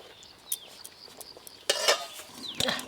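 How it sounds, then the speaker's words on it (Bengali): A spoon stirs partly cooked rice in an uncovered pot, giving soft scrapes and light metal clinks with two louder, brief rustling bursts, close by and without talk. "এবার চাপা খুলে ভাতটা একটু নেড়ে দেবো"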